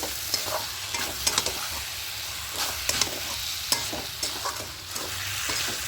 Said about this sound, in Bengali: সামান্য একটু চিনি দিয়ে দেবো দিয়ে আরও ভালো করে কষিয়ে নেব